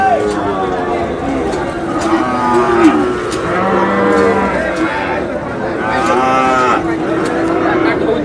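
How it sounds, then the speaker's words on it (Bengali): A big Sahiwal bull at a livestock market lows in long, loud moos close by. Crowd chatter and people talking run underneath. "বিগ সাইজের ষাঁড়।"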